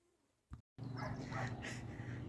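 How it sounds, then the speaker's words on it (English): A pet dog barks outdoors on a farm, a couple of short yips followed by sustained whimpering and vocal sounds, fairly close and moderately loud with steady background noise. "Walk outside and I hear my dog."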